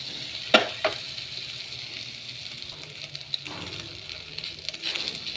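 Chinese sausage frying in a dry pan with no oil gives a steady soft sizzle, with a couple of sharp clinks near the start and light stirring scrapes later.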